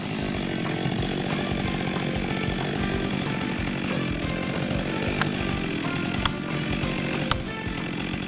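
Stihl MS 462 chainsaw with a 72.2 cc engine cutting wood, a loud, close, continuous high-revving buzz held steady throughout, with a couple of sharp clicks near the end.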